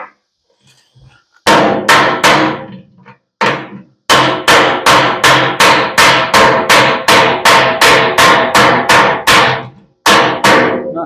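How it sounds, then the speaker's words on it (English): A brass hammer strikes a metal freeway sign in a run of loud, sharp, ringing blows at a steady rhythm, about fifteen hits with a short pause after the first few, close and without talk. "I'm using my brass hammer just because soft metal on soft metal"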